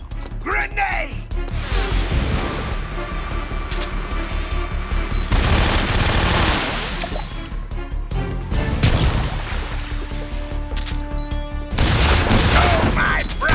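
Grenade blasts and heavy gunfire in Metal Gear Solid 3 form a loud, chaotic barrage of overlapping shots and crashing booms, surging in several waves, with shouting voices mixed into the fighting.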